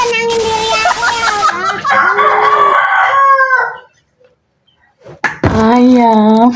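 A rooster crows loudly and close by in a long, full call, then falls briefly silent before starting a second crow; a voice may be mixed in.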